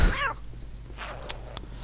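A kitten meows in the video game Postal 2, a single high, harmonic mew near the start over a low steady hum, followed by faint, brief chirping sounds; no talking.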